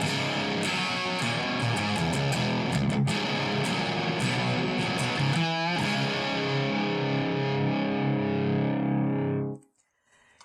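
Electric guitar through a Seymour Duncan Twin Tube Mayhem distortion pedal at 25% gain: loud, crunchy overdriven chords and riffs with a brief vibrato bend, played alone and then cut off sharply at the end.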